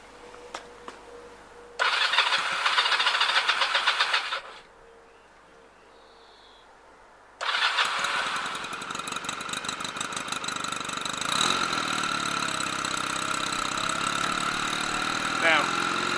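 A Honda motorcycle engine cranks in two loud bursts, pauses, then catches and settles into a steady idle that keeps running close by, with a few faint clicks before it starts.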